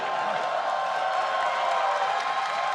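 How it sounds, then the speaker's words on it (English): A large esports arena crowd applauds and cheers after a ROX Tigers match win, a dense, sustained wash of clapping and shouting heard from a distance. "And an applause."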